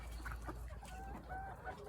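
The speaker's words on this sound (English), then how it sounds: "this is a cockerel" A cockerel clucks and murmurs close by in short, uneven calls, with a few rising tonal notes over a low background hum.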